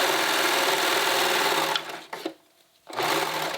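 Sewing machine stitching the ruffle edges of a tunic, a steady, loud, close motor whir that briefly stops and then starts again.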